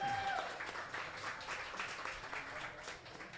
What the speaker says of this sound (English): Let's give Coach a big round of applause as we get started.